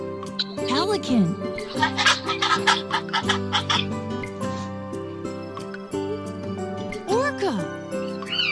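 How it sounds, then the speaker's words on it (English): A pelican makes a run of rapid, rough clattering grunts and clucks in a burst of about two seconds over background music, with a voice speaking briefly before and after. "pelican"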